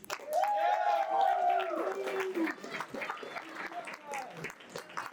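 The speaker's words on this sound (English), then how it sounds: "And one more round of applause for our amazing contestants." An audience at a talent show applauds the judges and contestants, with loud clapping and cheering, whoops and crowd noise mixed with voices and rising and falling in bursts.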